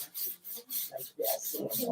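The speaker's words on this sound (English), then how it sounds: "she's sanding right now. She's using sand blocks, sand sample blocks." Sanding sample blocks rasp back and forth in rhythmic strokes, a close, scratchy rubbing that repeats several times with no speech.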